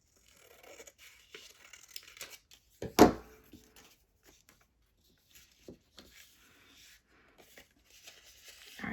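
Paper being cut for a collage gives sparse, faint snips and rustles at close range, with one louder crisp cut or tear standing out among quiet handling sounds.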